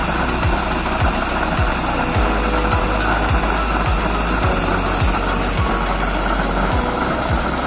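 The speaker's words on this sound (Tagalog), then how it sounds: "malakas na yung tunog ng ating blower" Gas stove blower roaring at maximum setting, a loud continuous broadband rush with a steady rhythmic low thumping underneath, with no voices.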